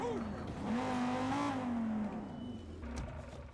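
Car driving in Watch Dogs 2, a steady engine drone with a rising and falling pitch and some tire noise, fairly close and continuous, with a voice speaking over it for much of the time.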